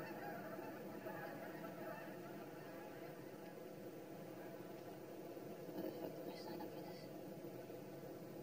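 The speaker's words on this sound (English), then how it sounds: "Shut up, geese!" Geese honk in a few short bursts over a steady low background hum, moderately distant.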